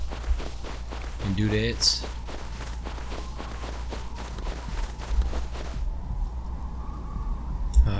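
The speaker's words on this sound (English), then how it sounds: "I hear everything, sound like footsteps." Footsteps in the Rust survival game, a steady run of soft repeated steps across several seconds, with a person talking briefly over them.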